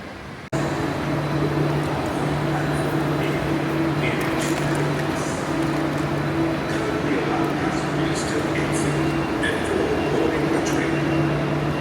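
A steady interior rumble of a moving train in Kuala Lumpur, Malaysia, with a constant low hum and faint rattles, running continuously after a sudden start.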